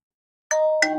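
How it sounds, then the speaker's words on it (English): Two quick bell dings ring out close and clear after a moment of silence, the second striking just as the first still sustains. "Confirmed by the bell."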